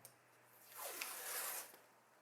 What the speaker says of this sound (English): I'm just putting on some masking tape to help alleviate chip out.